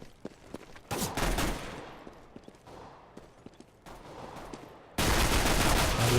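P250 pistol fire in a Counter-Strike match rings out as a volley of rapid shots, with bursts of crackling gunfire and clattering noise recurring across the span, ending in a loud dense wash.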